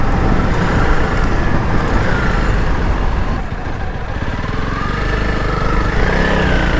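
A Honda CRF 300 Rally motorcycle drones loud and continuous while riding, with a steady engine note and road and wind rumble throughout. The tone dips slightly midway.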